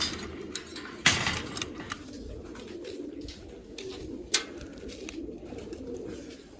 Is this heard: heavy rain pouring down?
no